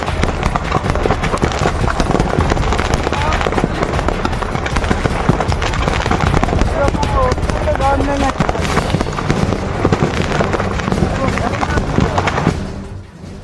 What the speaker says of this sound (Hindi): सड़क पर आतिशबाजी,